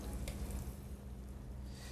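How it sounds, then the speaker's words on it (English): Steady, soft sizzling of spices, including a cardamom pod, frying in a hot pan for a mince and vegetable curry, continuous and close, with no talking. "You can hear it sizzling"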